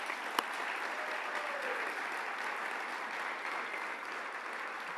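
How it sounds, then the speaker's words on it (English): An audience at an awards celebration applauds steadily, a dense wash of clapping from a sizable crowd that holds even through the whole stretch, with no speech over it. "So get a huge round of applause for our sponsors."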